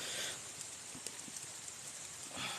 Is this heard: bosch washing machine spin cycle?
no